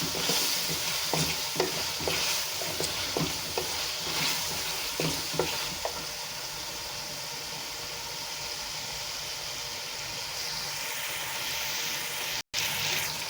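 Masala and chicken for Kashmiri dal chawal sizzle in a pan while a spoon stirs and scrapes in repeated strokes, then the frying continues as a steadier, smoother hiss.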